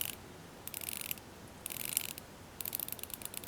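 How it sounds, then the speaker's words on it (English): The ratcheting timing bezel of a Seiko Starfish SKZ281K1 watch is turned in three short bursts of quiet, rapid clicks with pauses between them, close up in a hushed room. "I don't know if you guys can hear that ratcheting sound here."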